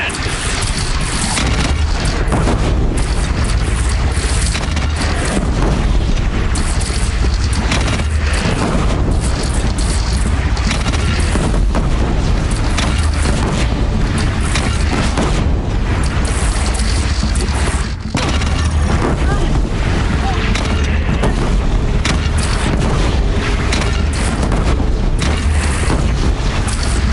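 Cannon fire and explosions in the video game Horizon Zero Dawn: dense, loud booms and crashing blasts rolling on without a break, with voices faintly underneath.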